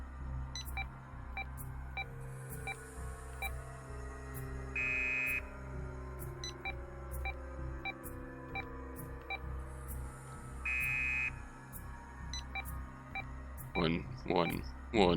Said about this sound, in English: the random combination of numbers he put in was only met with the sound of a buzzer